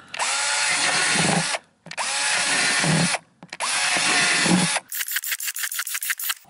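A power drill bores drainage holes into plastic containers, three sustained whining bursts separated by short pauses, then a rapid rattling stutter of short pulses, close and loud with no talk.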